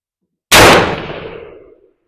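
A single rifle shot from an Anderson AR in .223/5.56 or a custom Ruger 10/22, loud and sharp with a ringing outdoor decay fading over about a second, no talking.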